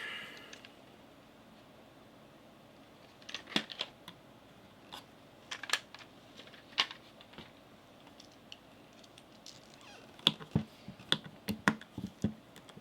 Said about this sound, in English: Looks like we're down to just screws holding this thing together. Get out the old screwdriver.